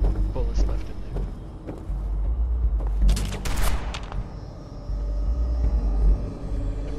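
Shotgun blasts and rumbling gunfire in the Fallout 4 video game, loud bursts over a dense, constant game din with no speech.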